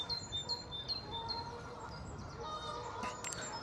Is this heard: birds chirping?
yes